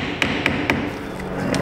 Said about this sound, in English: Let me get a bigger pry driver just to get that flange up a little bit more.